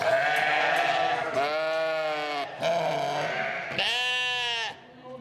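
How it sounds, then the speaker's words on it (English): Several loud sheep bleats close by at a 4-H sheep camp, long wavering baas one after another with brief gaps, a higher-pitched bleat near the end. "A few loud baas, and several more, is the soundtrack of 4-H Sheep Camp."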